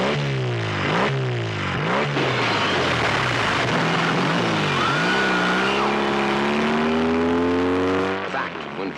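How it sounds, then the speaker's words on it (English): A rusted 1956 BSA motorcycle, long drained of gas and oil, roars off on a cold Cicero night: a loud, continuous engine roar that rises and falls through repeated revving sweeps. "a 20-year-old motorcycle, rusted and long since drained of gas and oil, had roared out into the chill Cicero night"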